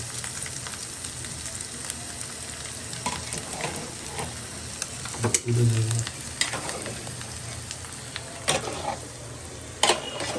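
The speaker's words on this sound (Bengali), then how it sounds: "এখানে তো খিচুড়ি নাড়াচাড়া হচ্ছে" Khichuri is stirred in a cooking pot over a steady background sizzle, with repeated spoon scrapes and several sharp clanks against the pot near the middle and end.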